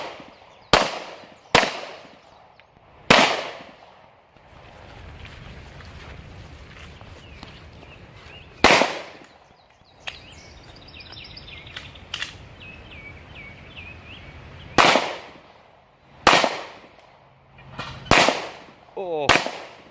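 Sharp pistol shots from budget handguns at an IDPA shooting match ring out in irregular clusters, loud and close, with quieter range noise and faint chatter between the bursts.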